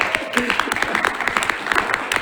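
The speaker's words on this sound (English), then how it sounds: "Carl, that deserves a round of applause." Applause at a transit authority board meeting: a modest group of people claps with distinct, closely spaced hand strikes, while a voice talks over the clapping.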